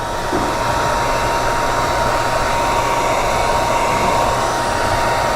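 A heat gun blows steadily and loudly without pause, warming chrome delete film on the front grille of a 2024-2025 Hyundai Sonata, a constant close whooshing roar with no speech.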